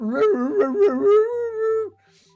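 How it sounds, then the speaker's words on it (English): A dog howls as a sound effect during a tabletop RPG session, loud and close, with wavering yips rising into one long sustained howl that cuts off, followed by faint background tones. "you just hear this dog just start to"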